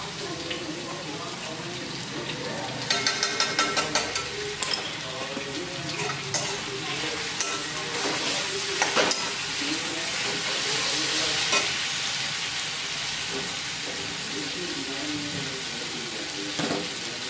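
Ginger garlic paste sizzles and fries in a pan for a bean bhaji, a steady close hiss broken by stirring scrapes and clatter of utensils, with faint background sounds and no clear talk.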